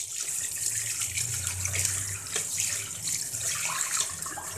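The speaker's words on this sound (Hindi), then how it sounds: "अब मैं इसे दोबारा वॉश करती हूँ।" Okra (lady finger) rinsed in a strainer under a running kitchen tap gives a steady close splash of water that runs unbroken for several seconds, with faint sloshing as the pods are moved around.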